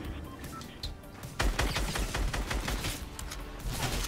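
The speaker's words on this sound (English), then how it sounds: "we're being sniped up by a real player" Sniper and automatic gunfire in the Fortnite video game: a rapid burst of repeated shots starts partway through and continues as a steady, loud fusillade with sharp cracks.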